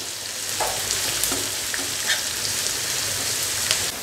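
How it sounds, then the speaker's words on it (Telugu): Ginger garlic paste frying in a pan for an Andhra fish curry, a steady close hiss with small scattered pops and light stirring scrapes. "జింజర్ గార్లిక్ పేస్ట్ ఇది వేసేసుకుందాం ఇది మంచిగా ఫ్రై అవ్వాలి"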